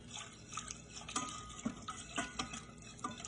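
A whisk stirs whole milk into a sauce for chicken cordon bleu, giving faint, close, irregular clicking and light liquid swishing against the pan.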